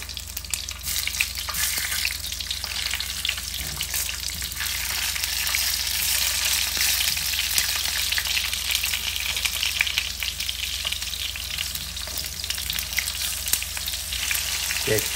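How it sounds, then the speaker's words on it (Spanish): Garlic, onion and tomatoes frying in a clay pot: a loud, continuous, dense sizzle with fine crackling pops throughout, close and steady, with no voices. "Que chille la cazuela."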